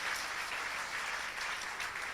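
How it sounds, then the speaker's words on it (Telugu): An audience at a Telugu Christmas song and dance event claps in a dense, even wash of applause that holds steady throughout, fairly quiet and without voices. "మరొకసారి గట్టిగా చప్పట్లు కొడదాం."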